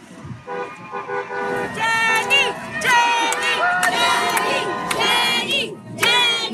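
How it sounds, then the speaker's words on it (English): A crowd of hundreds holding signs in Central Park cheers and shouts in welcome, a loud sustained roar of mixed voices with whoops and a horn-like toot, continuous and close throughout. "there was a crowd, maybe hundreds of people strong, holding signs, waiting in Central Park to greet her"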